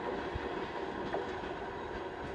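The Tashkent–Samara passenger train rumbles steadily past at close range in Turkistan, a continuous rolling roar with faint rhythmic wheel clatter and no voices.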